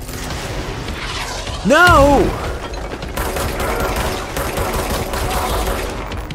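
Rockets and rapid gunfire in the video game Control, dense bursts of shots and blasts filling the clip around a player's loud shouted exclamation.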